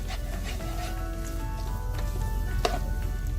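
Garlic shrimp egg lo mein sizzles in a hot pan while being stirred, a steady close frying hiss with intermittent scraping and tossing sounds and a sharper clack near the end, no voices.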